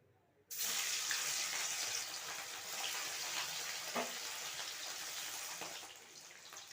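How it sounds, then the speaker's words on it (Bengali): Turmeric- and salt-coated rohu fish drops into hot mustard oil and bursts into a loud, steady hiss and sizzle that runs on continuously, with a few faint pops. "এবার এটাকে খুব ভালো করে ভেজে নিতে হবে।"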